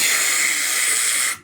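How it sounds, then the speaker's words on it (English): A fire extinguisher sound effect blasts one continuous, loud, airy hiss of spray that holds steady for over a second before cutting off abruptly. "It seems like someone is spraying a fire extinguisher somewhere."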